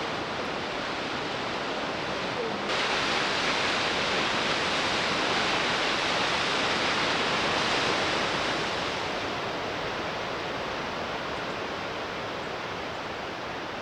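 A steady wash of white-water noise from Spahats Creek Falls, British Columbia, as the creek plunges some 60 meters into a deep gorge, loud and continuous with a slight swell midway.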